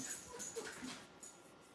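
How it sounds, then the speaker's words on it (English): A dog whines and whimpers softly to be let outside, faint high-pitched cries in short bursts, quiet and close in a calm home. "my dog is asking to go out"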